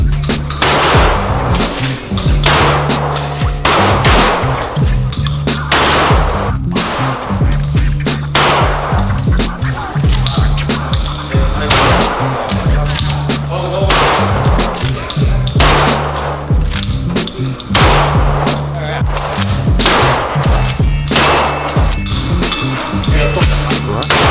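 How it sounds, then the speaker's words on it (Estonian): Repeated loud pump shotgun shots firing rubber bullets at a tactical shooting range, one after another at a steady pace, each sharp bang followed by a brief mechanical clack, with faint voices in between. "Ette lasku vinnastate, teete lasku, jälle vinnastate, teete lasku."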